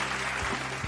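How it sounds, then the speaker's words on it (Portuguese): Audience applause at a lottery prize show, a steady dense wash of clapping filling the whole moment, moderately loud with a music bed underneath. "Palmas que ele merece!"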